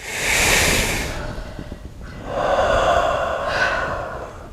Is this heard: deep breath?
yes